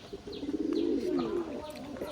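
A tula pigeon coos softly at close range, a low rolling call rising and falling over about a second, with faint chirps in the background.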